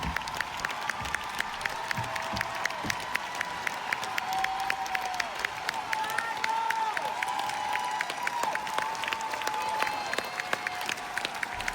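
Fans at a concert in London applaud with rapid, crisp claps and scattered cheers and whistles. The sound is fairly distant and steady throughout.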